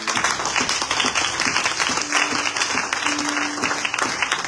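A church congregation breaks into steady, dense applause, a loud continuous wash of clapping from a large crowd, with faint voices and musical tones underneath.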